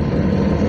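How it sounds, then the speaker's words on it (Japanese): Chevrolet Astro engine running with its engine cover open after an intake manifold gasket replacement, giving a steady, loud broadband intake roar and low hum, close and unbroken, with no talking. "吸気音もすごい聞こえますね、エンジンカバー開けてますと"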